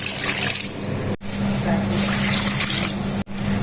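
Water pours steadily while cups are filled for a crispy qatayef batter for Ramadan, a continuous splashing stream broken by two brief pauses between pours.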